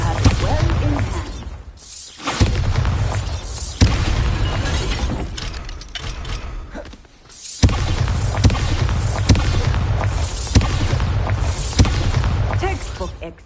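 Bombarda blasting spell explosions in the Hogwarts Legacy video game, several loud shattering booms bursting at intervals through a dense battle mix, with voices speaking over parts of it.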